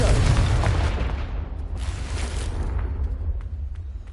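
A Confringo spell explosion in Hogwarts Legacy: one loud, broadband blast that bursts at once, then rumbles and decays over several seconds with a deep low-end tail.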